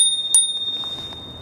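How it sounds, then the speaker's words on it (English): A small handlebar bell on a Velo De Ville compact e-bike with grip-shift and seven gears gives one bright ring near the start, and its thin tone hangs on faintly through the quiet clip. "little bell."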